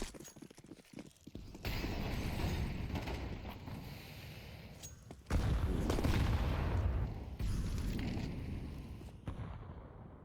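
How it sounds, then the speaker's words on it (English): A grenade explodes in a Counter-Strike 2 esports match. Heavy, booming blasts land over a continuous roar of game noise, with a second, louder burst midway through. "That nade actually just jump scared me."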